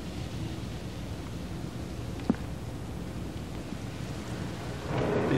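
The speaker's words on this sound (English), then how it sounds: "It's rain" Steady rain hiss fills the scene throughout, with one sharp, brief crack near the middle and the downpour swelling slightly louder toward the end; no voices.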